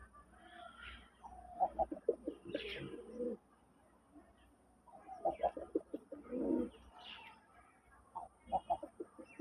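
Red-eyed sky-blue Raj Golla pigeons coo in soft, repeated throaty bursts close by, with pauses between calls and faint background noise.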